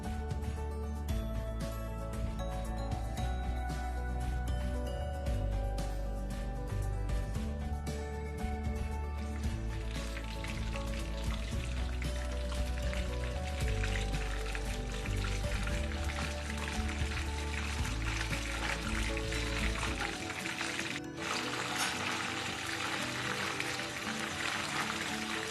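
Marinated mushroom pieces deep-frying in hot oil for mushroom 65, a soft continuous bubbling sizzle with faint crackles, heard alone over a long stretch while music plays in the background.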